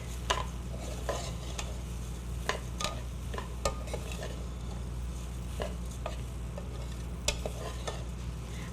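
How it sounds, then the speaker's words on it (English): Food sizzling in a pot while a utensil stirs it, with light scraping and clinks at irregular intervals over a steady frying hiss, close and moderately loud, no talking. "all right, we're going to stir this."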